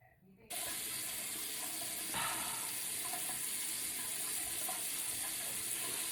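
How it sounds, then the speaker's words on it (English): A bathroom sink tap runs steadily while someone rinses their face, making a constant close rush of water that starts abruptly and continues without pause, with no speech. "And then I'm going to rinse this off."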